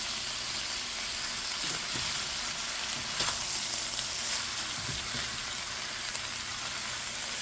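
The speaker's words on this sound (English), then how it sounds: "Added my turkey. Get that mixed in real good." Leftover shredded turkey for a curry sizzles steadily in a pan, a close, even frying hiss broken by a few soft scrapes and knocks of stirring, with no talk.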